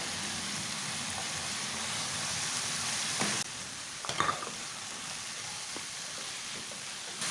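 Crushed garlic and chopped carrots sizzle steadily in a hot pan while a spoon stirs them, with a few clattering scrapes midway and the frying continuing close and loud throughout.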